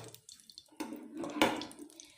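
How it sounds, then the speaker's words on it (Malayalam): Coconut oil is poured into a pan for a tuna fish curry, giving soft, irregular liquid splashes and gurgles in short bursts, quiet and close. "അപ്പോൾ ഞാനിതിലോട്ട് കുറച്ച് വെളിച്ചെണ്ണ ഒഴിക്കണം കേട്ടോ."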